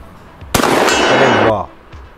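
A 12 bore double barrel shotgun fires one loud, sharp blast with a long rumbling tail, standing alone without talk in an outdoor setting.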